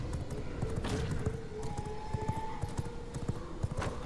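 A fast horse in the V Rising video game gallops with rapid, continuous clip-clopping hooves throughout, fairly close and steady, with a faint whinny-like tone in the mix and no talking.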